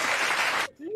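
A person's voice mimicking a clapping sound effect, a short burst of dense, noisy patter lasting under a second before cutting off.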